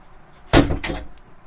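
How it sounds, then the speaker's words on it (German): The rear door inside a 2020 Pössl Roadstar 640 camper van swings shut with one sharp, close thud, then a second softer knock as it settles, in a quiet interior. "man kann hier hinten die Tür zumachen."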